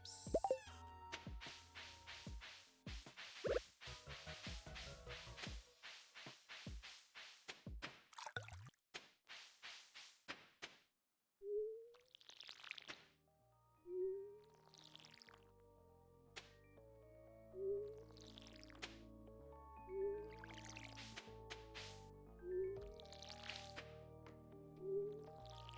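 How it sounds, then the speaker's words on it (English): Watering crops in a farming video game: a series of soft watery plops and drips repeat at a steady rhythm, each a short splash, over quiet game music, after a busier stretch of rapid clicking sounds. "Let me water some crops."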